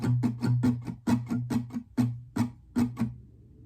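Acoustic guitar strums a plain, even pattern from a song: about a dozen evenly spaced down-and-up strums in a close, moderately loud run, the last few sparser before fading, with no voice.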